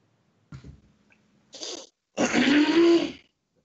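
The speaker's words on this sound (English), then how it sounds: "I had to clear my throat, man." A man clears his throat in rough, gravelly bursts: a short grunt, a brief rasp, then a longer, louder hacking rumble, close and alone.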